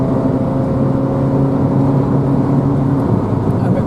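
A car engine hums steadily with a low droning tone while driving a mountain road toward Les Orres, holding an even, sustained pull that eases slightly near the end, with no talk.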